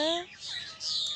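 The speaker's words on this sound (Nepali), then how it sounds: "चराहरूको चिरबिर चिरबिर आवाज" Short, bright bird chirps sound over a quiet outdoor background, one quick rising call at the start followed by fainter twittering.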